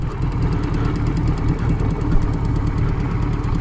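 A Suzuki GS1000 motorcycle engine idles close by with an even, rapid low throb and a slight knocking vibration, running steadily and alone throughout.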